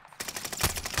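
Rapid machine-gun fire striking the player in Call of Duty: Warzone, a close, loud burst of evenly spaced shots over about one second with no talking.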